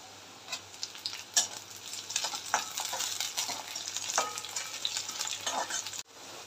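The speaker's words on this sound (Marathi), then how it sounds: "थोडा कांदा स्लाइटली ब्राउन करून घ्यायचा" Onion frying in a pan for a potato sabzi, a soft continuous sizzle broken by clicks and scrapes as it is stirred, fairly quiet and ending abruptly.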